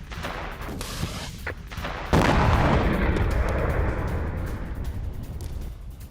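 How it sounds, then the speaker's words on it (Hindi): Gunfire in a Pakistani army attack on Afghan soldiers at a border post: a few distant sharp reports, then one heavy blast that gives way to a sustained rumbling roar, with no voices. "भागते हुए अफगान सैनिकों पर फायरिंग भी की पाकिस्तान के सैनिकों ने।"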